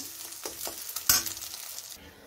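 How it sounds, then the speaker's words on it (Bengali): Vegetables and egg with a little salt frying in oil in a wok, a soft crackling sizzle broken by a few knocks and scrapes of stirring, one sharper clatter midway, close and quiet without speech. "একদম ঝুড়ো করে ফ্রাই করে নেব।"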